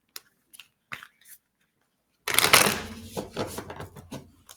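A sticky deck of tarot-style cards being shuffled up close, first a few soft isolated flicks, then a brisk riffling burst of papery snaps that trails off into lighter shuffling.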